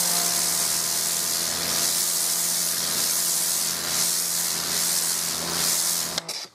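A Karcher K5 electric pressure washer sprays a concrete sidewalk, a steady loud hissing jet running continuously with a pump drone underneath and a brief cutoff at the end.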